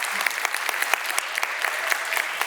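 An audience at the Göteborg Film Festival applauds an honorary award recipient with steady, dense clapping, with sharper individual claps popping out throughout.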